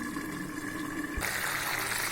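Water pours into a pan of frying chicken for a Tamil-style chicken fry, a steady broadband rush and sizzle that swells louder partway through, with no voices.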